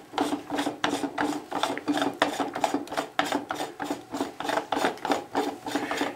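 The housing lid of a Seametrics iMAG4700 or EX90 flow meter is unscrewed by hand, giving a steady, rhythmic rasping scrape that repeats roughly twice a second, close and alone.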